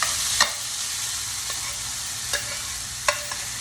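Creamy corn sizzles softly in a skillet as a spoon stirs it, a low steady fry broken by a few light scraping taps, close and gentle.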